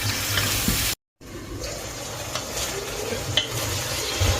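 Tomatoes and coriander frying and being stirred in a pan for an anchovy fish curry, steady sizzling with scraping stirs and occasional spoon clinks, after a brief silent gap.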